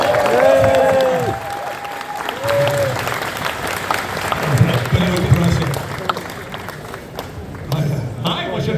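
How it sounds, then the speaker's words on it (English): Applause from a convention audience at a Doctor Who panel, a dense wash of clapping and some cheering that tapers off, with a tonal sound and voices mixed in at the start. "we want you guys to give them a massive round of applause."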